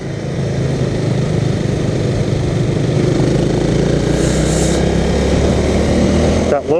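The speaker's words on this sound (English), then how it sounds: "even though it sounded like the engine was lugging, the engine still had a decent amount of go in it" A 2017 Honda Rebel 300 motorcycle engine on a test ride, a low, steady, lugging drone at low revs, loud and close, running throughout with a brief rustle of wind or handling noise at the very end.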